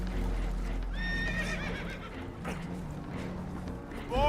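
Panicked horses whinnying on a damaged boat taking on water in the video game Red Dead Redemption 2, one sharp neigh clearly up front with a second cry at the end, over a low rumble of water and movement.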